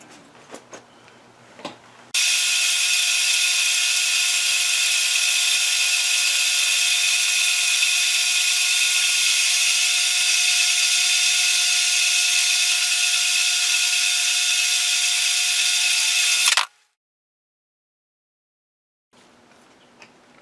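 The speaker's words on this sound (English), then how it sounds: "I cut that in half, fly cut the surfaces to get them true" A power saw cuts steadily through an aluminium block for a V-block used in welding, a loud continuous high whine lasting about fourteen seconds before stopping abruptly, with brief quieter handling noise before and after.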